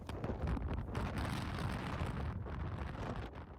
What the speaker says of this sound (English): It is slightly windy.